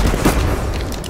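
A frag grenade explodes in Titanfall 2 as a loud, close, booming blast that fills the whole short moment with a rumbling burst.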